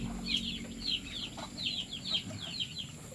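A flock of about 29 penned chicks peeping in rapid, overlapping high chirps that repeat steadily throughout, fairly close and moderately loud over a low, constant background hum.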